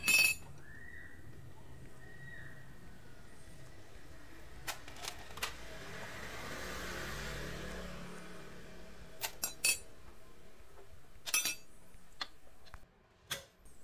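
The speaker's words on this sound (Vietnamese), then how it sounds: "Hai ốc của bánh răng cam các bạn sẽ sử dụng khẩu 8 để các bạn tháo mở hai ốc của bánh răng cam." Metallic clicks and sharp ticks from an 8 mm socket working on the cam gear bolts of a Honda Wave S100 motorbike, scattered taps against a quiet hiss, close by with no talk.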